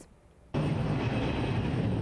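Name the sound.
airplanes taking off at Reagan National Airport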